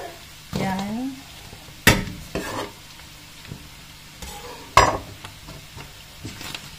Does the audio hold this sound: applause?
no